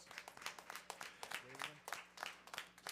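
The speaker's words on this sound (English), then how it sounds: "Let's give him a round of applause." Applause from a crowd at a board meeting honoring a recipient, steady clapping filling the room, with a voice briefly heard partway through.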